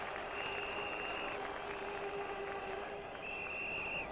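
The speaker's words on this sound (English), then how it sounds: "Tremendous cheer for Courtney, who's a wonderful fast bowler" Cricket crowd at a 1999 World Cup match between West Indies and Australia applauding and cheering a fast bowler coming in to bat, a steady broad wash of clapping and crowd noise filling the whole stretch at moderate distance.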